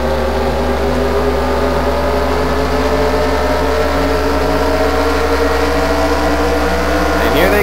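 IndyCar race cars in a racing video game on a Mt. Rushmore circuit: a steady, loud engine drone runs throughout with layered whining tones, and a higher revving pitch sweep comes near the end.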